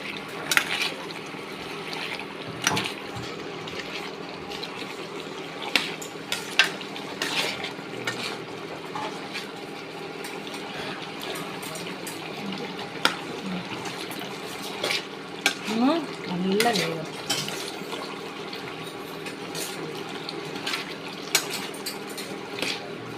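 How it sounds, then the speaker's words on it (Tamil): Chicken pieces simmer in oil in a pot for a home-made gravy, giving a steady soft sizzle with occasional clinks of a utensil against the pot and some stirring noises. "தண்ணி ஊற்றவே இல்லை, எண்ணெயில் தான் வேகுது."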